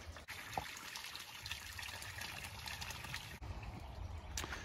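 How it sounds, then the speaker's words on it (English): Steady running spring water trickles and splashes continuously, fairly close, at a remote off-grid cabin, with no voices. "This is the spring from which we get our drinking water."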